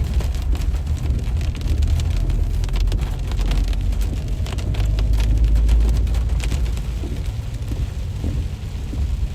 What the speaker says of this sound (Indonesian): Oh, di sini hujan deras guys,